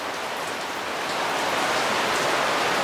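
Steady rain falling outdoors, a dense even hiss of drops hitting surfaces close by, continuous and fairly loud throughout with no voices.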